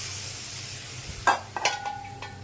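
Water poured into a hot pan of sizzling spices, a soft hiss that breaks into a few sharp bursts of splattering and spitting, with a faint clink of a pan near the end, close and brief.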